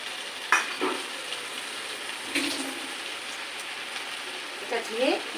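Chicken sizzles in its own released oil in a pan with green chillies and masala added, a soft continuous crackle with a few clattering stirs and spoon knocks standing out briefly.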